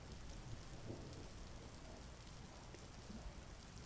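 Rain falls steadily in a wooded setting as a soft, dense hiss with faint low rumbles underneath, quiet and continuous.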